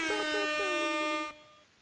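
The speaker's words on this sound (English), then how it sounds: "that deserves an air horn." Air horn sound effect blasting once, a loud sustained brassy honk lasting just over a second before cutting off abruptly.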